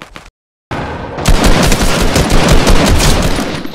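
Fortnite Season 8 gunfire: a brief burst, a moment of silence, then loud sustained rapid automatic fire and overlapping shots rattling on without pause.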